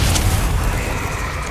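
A Bombarda spell detonating in Hogwarts Legacy, a loud, close, booming blast that fills the moment with dense low rumble and decays slowly.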